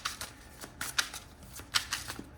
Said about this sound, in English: All right, I'm gonna shuffle.